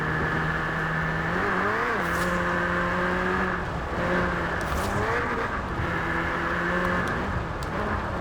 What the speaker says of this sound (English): Still a cool little rally car.